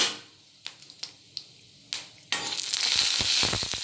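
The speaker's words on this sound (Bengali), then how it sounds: "তেলটা যখন গরম হয়ে যাবে তখন দিয়ে দেব গোটা দারচিনি আর এলাচ" Whole cinnamon and cardamom hit hot white oil in a wok: a few sharp clicks and pops, then a loud, steady sizzle that bursts in and crackles on, with no talking.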